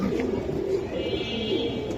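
Soft, low cooing of giribaz (top palla line tumbler) pigeons, a steady murmuring drone with faint chirps running through the whole stretch at moderate distance.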